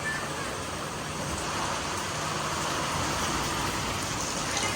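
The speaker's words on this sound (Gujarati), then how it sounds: "સવાર સવારમાં ભક્કમ વરસાદ ચાલુ થયો છે" A heavy early-morning downpour, the first rain of the season, roars as a dense, steady hiss that fills the whole stretch, with faint traffic-like rumble underneath and no one speaking.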